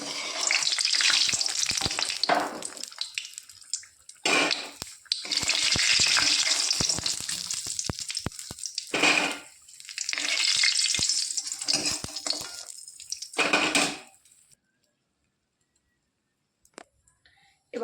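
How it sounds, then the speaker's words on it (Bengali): Lentil dumplings (bori) fry in hot oil with a loud, crackling sizzle that comes in surges and ebbs as they are stirred and lifted out, with clicks of a utensil, then stops into near silence for the last few seconds. "লাল করে বড়িগুলো ভেজে নিয়েছি, এবার তুলে নেব"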